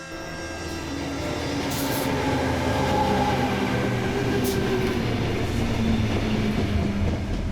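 A late-night commuter train rolls steadily toward Sydney's outer western suburbs, a dense continuous rumble with rattling wagons and faint high squeals, rising slightly at the start and holding loud throughout.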